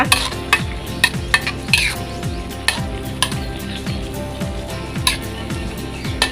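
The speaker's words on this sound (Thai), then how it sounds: "คนส่วนผสมรวมกันจ้ะนะจ๊ะ" Close metal spoon scraping and stirring curry ingredients in a pan, repeated sharp clinks against a low, steady sizzle of frying.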